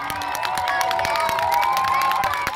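A roadside crowd cheers and claps at the Giro d'Italia's sixth stage in Cerreto Sannita, 2016, as a continuous, fairly loud mix of shouts and scattered applause.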